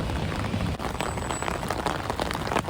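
Steady rain patters and hisses across surfaces outdoors during a sunny shower, a dense, continuous wash of drops that stays close and fairly loud with no voices.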